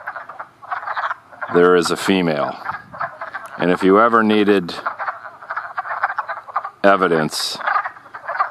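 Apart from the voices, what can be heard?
wood frogs croaking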